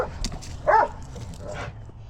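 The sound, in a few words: dogs barking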